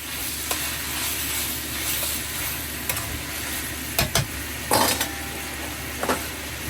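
Pork and peppers sizzle in a hot wok during a Chinese stir-fry, a steady frying hiss with occasional clanks and scrapes of stirring.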